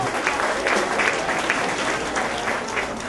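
Steady applause from a banquet audience honoring fallen heroes, dense clapping sustained evenly for about three seconds without a break.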